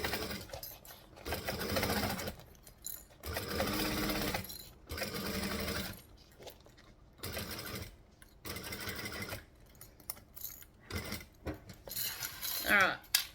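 Domestic sewing machine stitching in bursts of a few seconds each, running with a steady mechanical whir and pausing between runs, with faint clicks and handling noises in the gaps.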